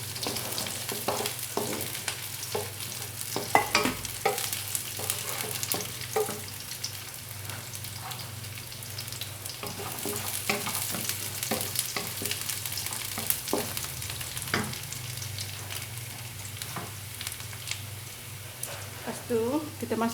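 Carrots and vegetables sizzle and crackle in a hot wok, with scraping stirs and tossing sounds, steady and close.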